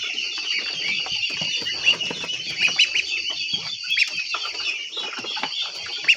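A flock of about ninety young ducks, around 22 days old, on a farm, with scattered chirps and calls over a steady background of bird noise.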